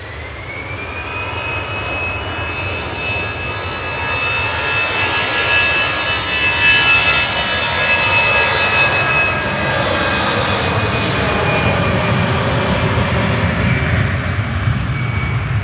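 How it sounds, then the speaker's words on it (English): An EasyJet jet airliner departs Manchester Airport with a loud, steady roar that swells slightly midway and holds, with no voices over it. "That's the EasyJet Jersey departing."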